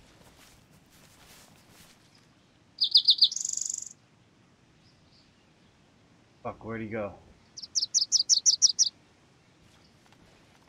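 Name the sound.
bird chirping in the video game DayZ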